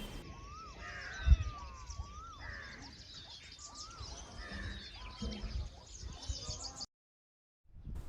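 Several crow caws ring out against outdoor background noise at an ashram, with other birds faintly chirping, before the sound cuts to silence near the end.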